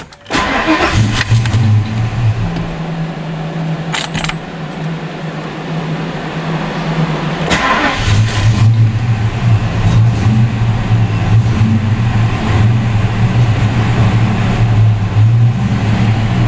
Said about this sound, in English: let's see if it'll start up with the TPS adjusted and that IAC reconnected